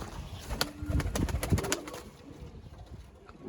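High-flying pigeons coo nearby in short, soft bursts mixed with clicky rustling and light scuffling, moderately close and fairly quiet, with no talking.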